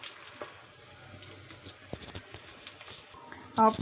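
Spices sizzling in a pan with browned onion while cooking beef, a soft, steady crackle with occasional clinks and stirring taps at moderate distance.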